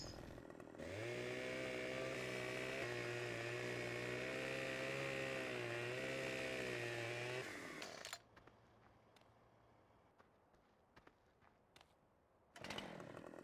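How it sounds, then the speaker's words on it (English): A chainsaw in the Farming Simulator 15 video game, running loud and steady at a buzzing idle-to-rev drone for about seven seconds, then cutting off to near silence before a brief burst returns at the end. "Funny how you can't run with a chainsaw."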